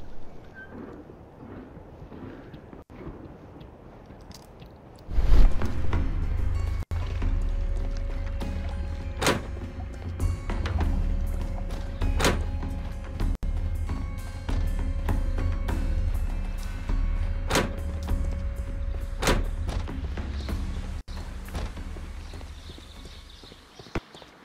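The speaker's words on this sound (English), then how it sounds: "I'll activate the ventilation system so that they fall down." A ventilation system switches on in a Sherlock Holmes video game. It opens with a sudden loud rumbling surge after a quiet stretch, then settles into a sustained mechanical drone with a steady hum and occasional sharp clanks.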